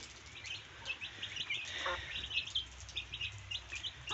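Desi hens cluck faintly at a distance, giving soft intermittent calls over a low, steady background hum.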